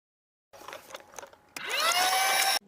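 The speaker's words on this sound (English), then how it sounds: "So with one switch, I can turn on the vacuum cleaner." A vacuum cleaner in a tiny cheap house switches on and runs loud and steady, its motor whine rising in pitch as it spins up after a moment of quieter clatter and rustling.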